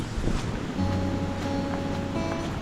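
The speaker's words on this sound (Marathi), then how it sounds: "हे बघा खतरनाक पाणी रुद्ररूप नदीचं हे बघा" A swollen river in the Konkan, rushing high after heavy monsoon rain, makes a dense, continuous roar of water with a wind-buffeted low rumble.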